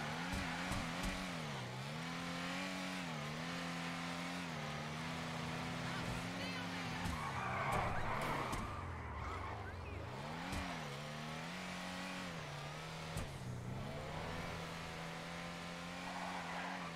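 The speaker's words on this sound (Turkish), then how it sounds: "Araba bir drift arabası." Drift car in GTA 5 Online revving hard with rising and falling engine pitch and tire skids, loud and continuous beneath someone talking.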